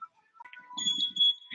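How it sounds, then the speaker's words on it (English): A workout interval timer gives short, thin electronic beeps, faint and close, in a quiet room. "Waiting for that beep."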